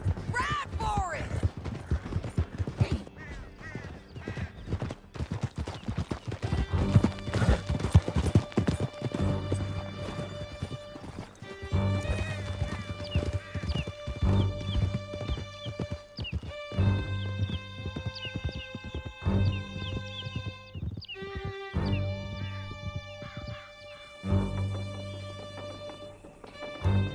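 Horses gallop in Red Dead Redemption 2 with steady, close hoofbeats and occasional whinnies, mixed with a game score and shouted dialogue throughout.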